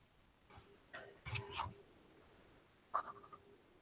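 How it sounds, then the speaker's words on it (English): Pen or marker strokes scratch across a surface as someone handwrites an equation: two quick bursts of scribbling close together, a pause, then one more short stroke, all close and quiet. "I'm going to write it like this first"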